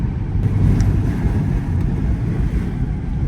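A Cadillac CT5-V cruising at night in manual mode, a loud steady low engine and road drone heard from inside the cabin with wind noise, no speech.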